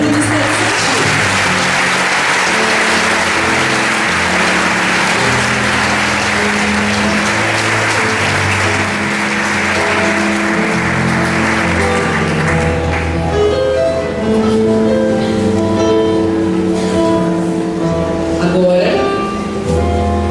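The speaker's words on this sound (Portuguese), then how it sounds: "Podem aplaudir o Ministério Infantil." A church congregation applauding the children's ministry during a pastor's anniversary service, loud sustained clapping for about thirteen seconds before it gives way to music.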